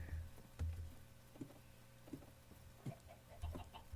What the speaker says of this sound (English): Yeah, there's chickens up here. Or at least a chicken.